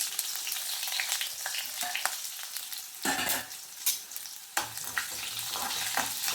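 Chopped shallots hit hot oil with popped mustard seeds and fenugreek for a turkey berry curry, a close, bright frying hiss that flares in bursts as the pan is stirred, with no talking.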